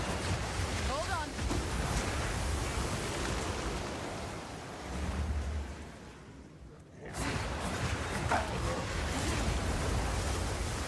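Gusting wind sweeps through a Path of Exile 2 game scene during a twister-filled hunt, a broad steady roar that dips briefly then surges back.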